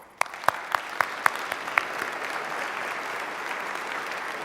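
An audience at the 2009 Burgess Lectures welcomes Professor Mark Heim: a few sharp individual claps quickly swell into sustained, dense applause that fills the hall.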